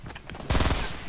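Rapid burst of gunfire in Fortnite, a dense rattling volley that starts abruptly and stays loud and close for about half a second, after a quieter stretch of game noise.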